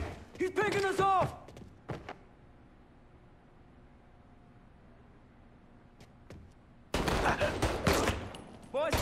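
Bursts of gunfire from a Mafia 3 firefight crackle at the start and again near the end, with a quiet gap between them and shouted voices over the shots.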